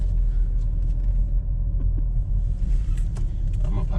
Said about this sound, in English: He's just gonna park his big ass truck